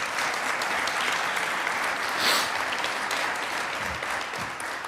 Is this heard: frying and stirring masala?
no